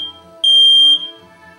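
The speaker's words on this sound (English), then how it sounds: "My smoke detector got set off by the remote I used to turn the camera on" A smoke detector alarm, set off by a TV remote, lets out one loud, piercing electronic beep lasting about half a second over steady background game music.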